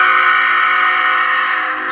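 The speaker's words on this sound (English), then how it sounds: "Train horn." A loud, sustained train horn tone played through a Powercall USB6100 100-watt MP3 siren amplifier holds steady for about two seconds before cutting off at the end, with no voices.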